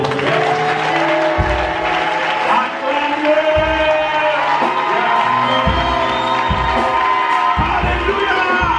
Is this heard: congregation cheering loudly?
yes